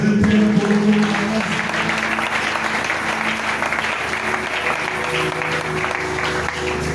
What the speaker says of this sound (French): Est-ce qu'on va applaudir pour les seigneurs?